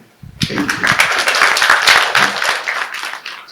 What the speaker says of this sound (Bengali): একটা হাত তালিও দিয়ে দিতে পারি